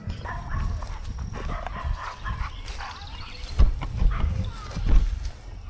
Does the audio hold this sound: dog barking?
yes